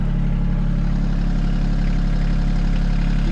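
A Sany mini excavator's engine runs steadily while it digs a ditch: a close, continuous low rumble with an even idle-like throb and no change in pitch. No one speaks.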